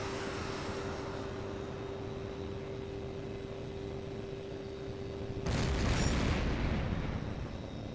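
Jet fighter dogfight in the video game H.A.W.X. 2, with heat-seeking missiles fired at a wingman: a steady, loud engine roar with a steady tone, then a sudden heavier blast of noise near the end.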